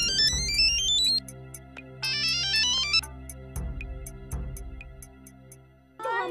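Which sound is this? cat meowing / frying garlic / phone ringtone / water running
phone ringtone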